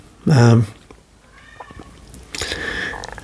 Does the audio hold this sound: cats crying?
yes